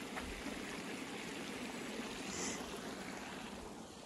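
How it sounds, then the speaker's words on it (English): A creek runs under a bridge at Cedar Bluff near Gillham, Arkansas, making a faint, continuous burble and hiss of flowing water with no voices. "And you do have some water flowing through here."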